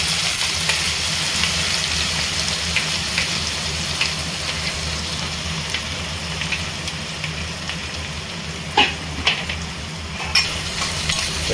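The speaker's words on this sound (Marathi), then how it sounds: "आता जे आपण कांदे कापून घेतलेले ते कांदे ॲड करतोय।" Chopped onions fry and get stirred in a hot pan with curry leaves and asafoetida, a steady close sizzle with scraping stir strokes and a few sharper clinks near the end.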